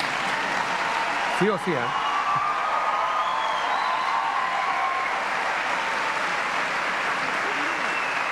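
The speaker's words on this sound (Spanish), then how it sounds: "yo creo que más fuerte el aplauso" Sustained applause from a large crowd at an academic year opening ceremony fills the space, steady and loud throughout, with a brief voice speaking over it near the start.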